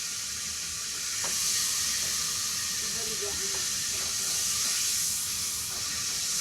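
Oil heating in a pan for a Gujarati tempering, giving a continuous bright hiss and sizzle that swells slightly midway, with faint background clatter.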